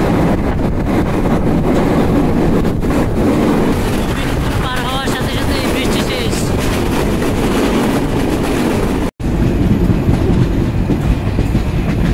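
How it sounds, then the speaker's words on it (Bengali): The Kapotaksha Express intercity train runs on its route from Rajshahi to Khulna, heard from on board as a loud, continuous rumble of wheels on rails with rhythmic clatter. There is a brief dropout near the end. "মোমিনপুর রেলওয়ে স্টেশনে ক্রসিং হয়ে গেল গোপালগঞ্জ থেকে ছেড়ে আসা আন্তনগর টুঙ্গিপাড়া এক্সপ্রেসের সাথে।"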